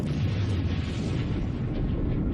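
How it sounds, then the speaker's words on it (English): A deep, sustained roar from the Space Shuttle Challenger explosion high over the launch range, a dense, steady rumble with no voices. "The explosion blasts the shuttle free."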